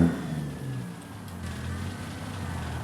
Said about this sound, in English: And I hear a car coming up behind.